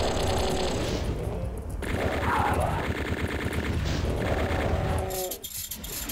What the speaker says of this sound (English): Now it's nice that I get the spider demon chain gun. That's one sound effect I actually appreciate.